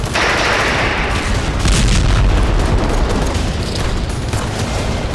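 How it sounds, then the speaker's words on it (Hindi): Bombing in Gaza heard as a continuous, loud, dense roar of blasts and rumbling explosions that fills the whole stretch without a break and with no voices. "गाजा में इजराइल बमबारी कर रहा है।"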